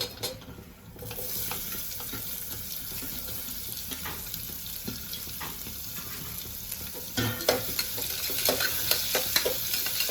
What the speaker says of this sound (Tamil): இதில் 2 பெரிய வெங்காயத்தை நறுக்கி இதோடு போட்டுக்கலாம்